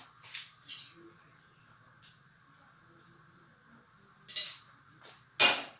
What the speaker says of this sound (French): Je pose mon emporte-pièce au milieu ou sur le côté